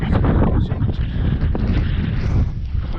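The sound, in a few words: wind blowing on the open summit of Pen y Fan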